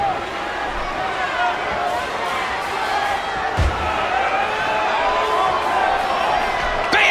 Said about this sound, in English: Would you listen to this crowd show their appreciation